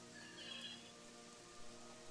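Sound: rain falling in the video game Gothic 3

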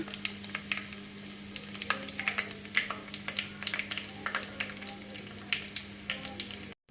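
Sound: hair oil with ingredients heating and starting to boil

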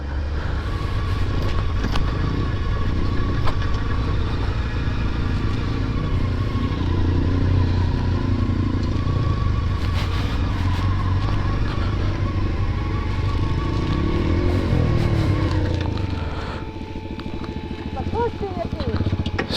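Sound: motorcycle riding on street tyres

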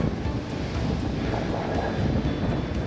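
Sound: strong headwind on the microphone while cycling

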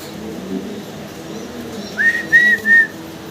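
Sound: pigeons cooing at a fancy pigeon farm

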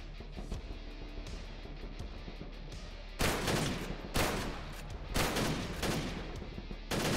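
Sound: machine gun firing in Wolfenstein-style indie FPS video game TrenchPunk

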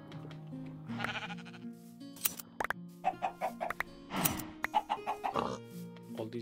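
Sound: chickens clucking in Minecraft Sky Factory 3 video game

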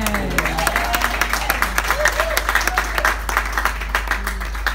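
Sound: wedding guests clapping and applauding

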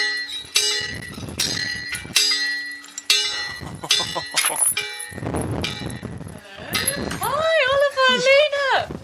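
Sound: large chateau door bell rung by pulling a chain

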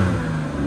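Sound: loud car exhaust revving at auto auction

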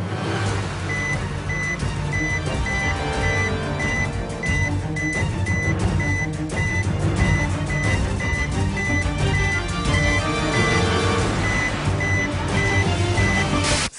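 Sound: electronic beeping

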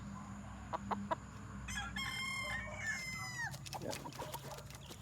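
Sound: gamecock rooster clucking

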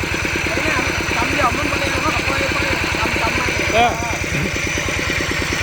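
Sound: walking tractor engine running

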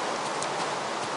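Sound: rain falling in the video game Minecraft

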